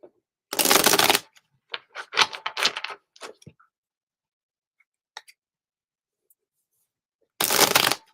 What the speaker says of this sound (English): I'm going to shuffle the cards.